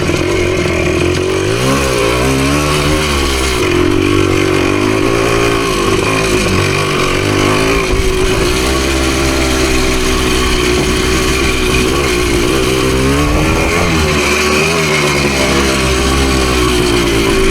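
A PE250 dirt bike ridden on trails, its engine droning loud and close throughout, pitch rising and falling with throttle and gear changes, no talking over it.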